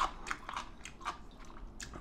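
Crisp, wet crunching bites into cucumber kimchi (oisobagi) come in several quick close-up bursts, a chewy snap repeating every fraction of a second with no speech.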